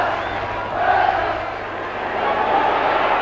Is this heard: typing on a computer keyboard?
no